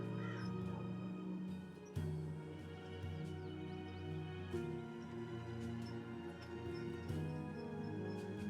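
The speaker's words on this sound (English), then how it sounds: "Go look for that goddamn bird over there." A talking bird caws in the video game Dreamfall Chapters, its harsh calls set against a steady bed of in-game ambient music and tones.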